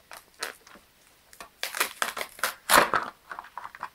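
Plastic packaging around a toy pony being torn and crinkled open up close, in irregular bursts of crackling and crumpling with short quiet gaps.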